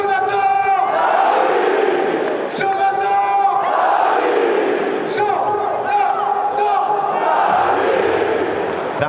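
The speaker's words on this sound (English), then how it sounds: "I'll let the crowd tell you who scored." Football stadium crowd roaring after a close-range goal for Lille, a loud sustained cheer with chanting, whistles and surging shouts, dipping briefly then swelling again.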